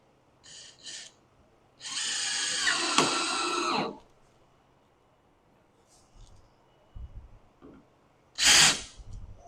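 A power drill bores into a thin wooden fence picket, hitting a knot in the wood: a long whining burst of about two seconds, then a shorter sharp burst near the end, close by, with quiet handling noises between.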